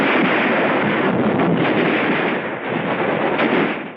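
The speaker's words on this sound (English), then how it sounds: "Our rifle fire is deadly. So are the flamethrowers and the mortars." Heavy battlefield gunfire with mortar blasts and rifle shots merging into a loud, continuous roar, dense and unbroken throughout.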